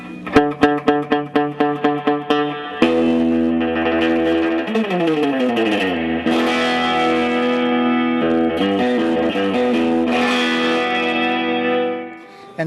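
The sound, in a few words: guitar through Vox Tony Bruno amplifier tube-driven reverb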